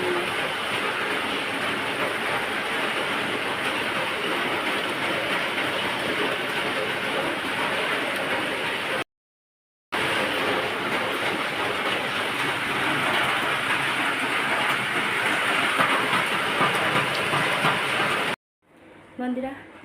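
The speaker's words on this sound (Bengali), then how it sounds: "এমন বৃষ্টি হচ্ছে দেখো, ঝমঝমিয়ে" Heavy rain pours outside at night, a dense, steady roar of falling water that holds level for most of the stretch, broken by one brief cut to silence and a sudden drop near the end.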